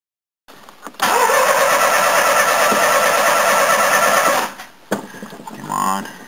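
A Toyota 12A engine cold-starting: a short crank, then a loud, steady, buzzy run for about three seconds that cuts out abruptly, with a brief second rev and a voice afterward.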